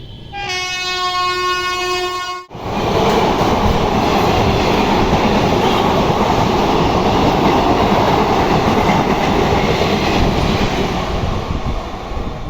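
A local train at Chinsurah railway station sounds a long multi-tone horn, then cuts to a loud, continuous rumble of carriages rolling past close by, with steady rail clatter.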